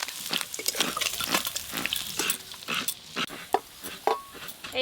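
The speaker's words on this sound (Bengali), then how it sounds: "এই মাছগুলো সব একসঙ্গেই ভেজে নেব।" Topse fish frying in hot oil in a rustic village kitchen, with continuous crackling and sizzling and irregular spattering pops from close by.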